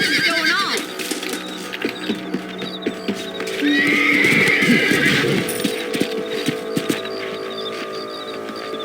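Horses in the Red Dead Redemption video game snort and give a loud, drawn-out whinny midway, with clip-clopping hooves throughout and a brief spoken word near the start.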